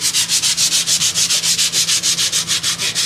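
Rapid back-and-forth sanding of primer on a Nissan Skyline car body, a steady rhythmic rasp of about six strokes per second, close and loud with no talking.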